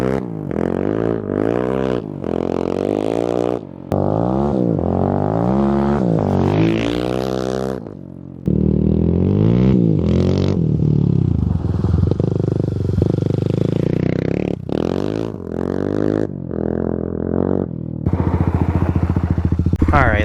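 A Kawasaki KLX351 motorcycle with a lidless airbox and aftermarket exhaust idles and revs repeatedly, loud and close, its engine note rising and falling through several throttle blips with a sustained rumble.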